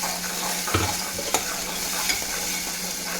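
A ginger-garlic paste masala sautéing in a pan, steady sizzle with a few distinct scraping knocks of a spoon stirring, close and clear, with no voices.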